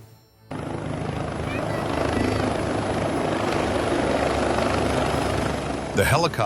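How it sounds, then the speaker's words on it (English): Helicopter lifting off close by, a loud, steady rotor and engine roar with broadband wash that holds throughout, swelling slightly as it gains lift, followed by a brief burst of higher-pitched noise at the end. "The helicopter had barely reached stable lift before the incident occurred"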